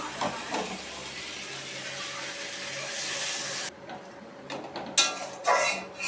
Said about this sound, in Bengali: আমার জল গরম করা আছে, আমি এবার দিয়ে পরিমাণ মতন জল দিয়ে দেবো।